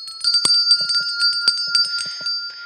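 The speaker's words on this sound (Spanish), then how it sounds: "Que suene la música, los cánticos y las campanas." Bright handbells ring in quick, irregular strikes with sustained shimmering tones at a school Christmas event, close and clear with no talking.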